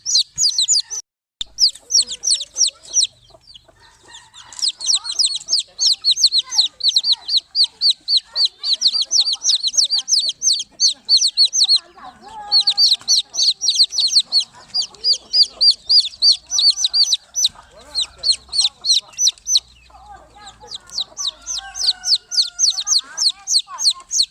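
Chickens cluck and chirp in rapid bursts, with high peeping from newly hatched chicks in repeated close, fairly loud runs separated by brief pauses, and no talking.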